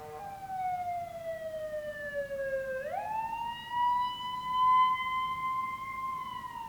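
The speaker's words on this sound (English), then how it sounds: "siren." A single emergency siren wails steadily, dipping then rising into a long sustained tone, moderately loud and passing at a distance over low background noise.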